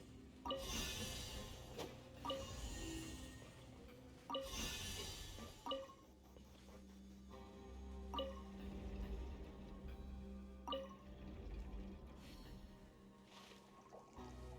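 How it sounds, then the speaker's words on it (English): In the Genshin Impact video game, water rises after a mechanism is activated, a soft watery gurgle with periodic dripping and sloshing accents and a low sustained drone beneath. "Ooh, the water level's gone way up."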